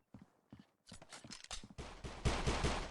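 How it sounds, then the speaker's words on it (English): Rapid gunfire in a competitive shooter video game, a few separate shots and then a dense burst of firing, loud against light background sound. "Couple shots."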